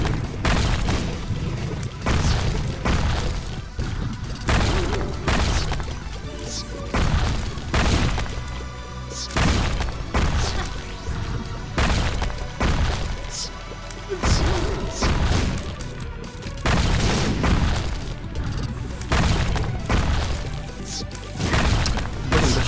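Eyed worm enemies bursting in rapid succession in The Binding of Isaac: Wrath of the Lamb, a dense run of loud, thumping explosive crashes and smashes packed close together throughout, with game music beneath and no clear talk.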